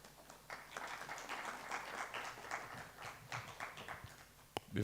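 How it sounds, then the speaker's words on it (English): Faint, steady applause from a conference audience honouring the chair at an African facilities management event, a dense patter of many hands sustained throughout at a distance. "Another round of applause for our chair."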